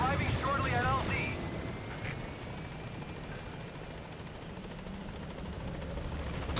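B-Quad helicopter arriving at a landing zone in the Metal Gear Solid V video game, a steady rotor drone held throughout beneath a brief radio voice and other game sounds.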